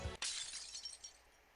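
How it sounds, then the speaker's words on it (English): Glass shatters in a Granblue Fantasy story scene. A sudden bright crash is followed by a glittering tail of falling shards that fades over about a second, heard alone. "A sound like shattering glass echoes faintly in the air."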